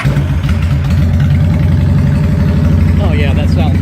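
A 2001 Honda Shadow Ace 750 motorcycle with a Cobra exhaust idles nearby, its low, loping engine rumble running steady and loud, with a voice briefly heard near the end.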